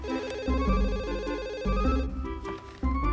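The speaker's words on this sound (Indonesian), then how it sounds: "ada telepon" An electronic telephone ringtone warbles in repeated bursts over a loud, busy musical background.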